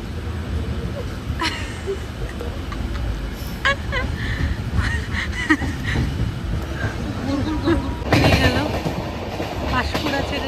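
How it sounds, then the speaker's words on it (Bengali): A passenger train on the Howrah to Ghatsila line rolls onward after leaving Panskura station, with continuous rumbling and rhythmic clickety-clack of the wheels and a louder stretch toward the end, while passengers talk nearby. "পাঁশকুড়া ছেড়ে ট্রেন এগিয়ে যাচ্ছে।"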